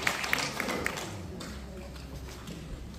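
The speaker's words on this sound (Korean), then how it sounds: "큰 박수로 맞이해 주십시오" Audience applause greeting a former elementary school principal before her talk, a brief patter of clapping from a moderate crowd at medium distance, fading quickly beneath room noise.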